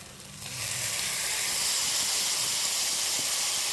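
Grated tomato hits a hot pan and sizzles loudly, a steady bright hiss that swells within the first half second and holds strong without interruption.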